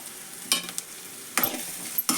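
Beans palya frying in oil with garam masala gives a soft steady sizzle, broken by three distinct scraping strokes of a spatula across the pan, close and without voices.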